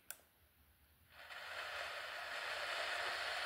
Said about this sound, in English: you're going to hear just a nice white noise in the radio stations